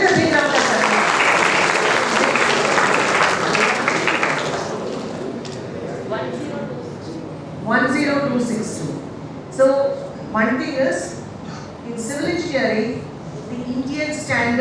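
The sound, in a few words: audience applause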